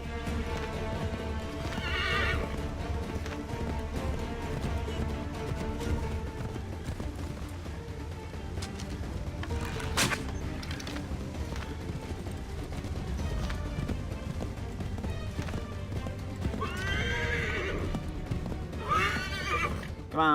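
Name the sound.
horse neighing and galloping in video game Assassin's Creed III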